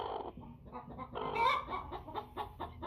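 A broody American Bresse hen sitting on her nest huffs and clucks up close, giving a continuous run of low, grumbling clucks with a sharper puffing burst in the middle.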